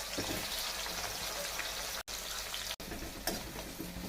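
Onions frying steadily in a pan for bottle gourd and chana dal curry, a dense continuous sizzle and crackle close by, with two brief cuts in the sound.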